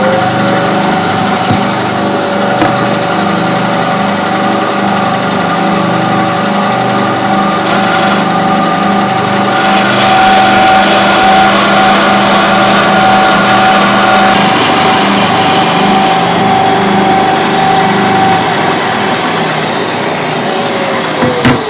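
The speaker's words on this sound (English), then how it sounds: "But I'm going to bandsaw it, sand it, and we should be fine with that." A bandsaw slices through a wooden blank for a boot jack, a loud steady motor whine with a sustained cutting tone that runs unbroken and close for the whole stretch, no voices.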